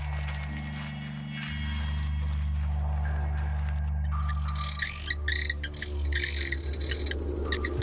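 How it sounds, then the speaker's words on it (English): Masked cave frog giving a soft trilling call at night, with insect-like chirps and buzzing tones layered over a steady low hum, moderately close. "That's it, masked cave frog."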